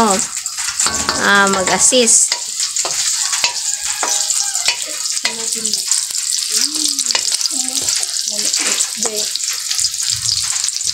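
Ginger frying in a pan while being stirred, a steady close sizzle with scraping stir sounds throughout, under a person talking.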